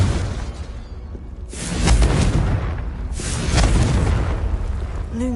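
A Confringo spell blast in the video game Hogwarts Legacy lands as two deep booming explosions about a second and a half apart, each with a rushing roar and a long rumbling tail.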